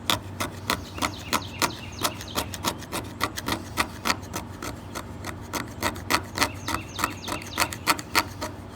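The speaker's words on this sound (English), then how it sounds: "Must be scraping end grain, because those aren't typical flakes." Pine burl fatwood end grain being scraped, producing a rapid series of sharp rasping strokes, roughly two or three per second, close and steady throughout with no talking.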